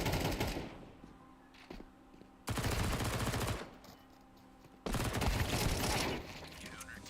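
Video game gunfire comes in two long rapid-fire automatic bursts with a shorter burst before them, loud against quieter gaps where faint talk is heard.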